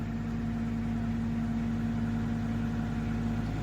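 Small tractor running a homemade hydraulic log splitter with a big cylinder, a steady low engine drone with a constant hum, loud and continuous throughout.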